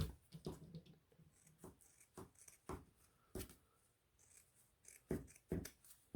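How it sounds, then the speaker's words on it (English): Scissors snip a curved line through fabric for a dinosaur costume, making quiet, close, irregular crisp cuts with short pauses between clusters of snips and no voices. "Get your curve, which you are going to cut out."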